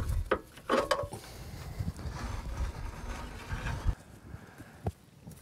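Toyota Land Cruiser PTO winch free spooling its cable, a near, faint mechanical clatter with a few sharp clicks and ratcheting knocks over a low rumble, irregular and intermittent, no voices.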